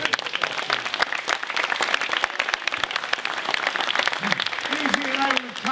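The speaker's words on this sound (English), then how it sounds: "Give him a round of applause." An audience gives a hearty round of applause, dense rapid clapping that carries on steadily throughout, with a voice briefly speaking over it toward the end.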